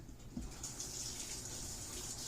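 Faint water runs steadily from a tap, a soft continuous hiss with a small splash near the start.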